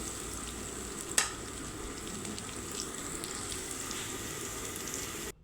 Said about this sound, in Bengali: তো এই তো আমি পেঁয়াজটা কড়াইতে দিয়ে দিয়েছি